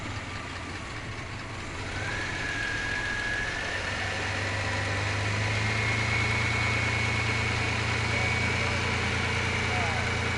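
A 1997 Bravada's 4.3L Vortec V6, suspected of lifter noise or rod knock, idles in neutral with a steady low rumble that grows slightly louder after a couple of seconds and holds even and close.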